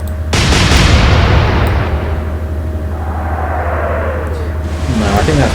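Heavy naval guns of a warship fire in the Atlantic Fleet video game, a loud booming blast opening onto a long rumbling decay beneath steady low engine drone, with a voice speaking briefly.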